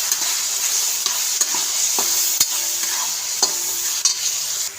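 Cauliflower sabzi with turmeric being stirred in a hot pan: a loud, continuous sizzle with a spoon scraping and knocking against the pan every second or so.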